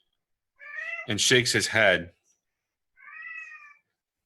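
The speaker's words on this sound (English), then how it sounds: "Got a cat yelling at me." A house cat meows loudly in a few drawn-out, yowling calls, with a voice talking briefly between the cries.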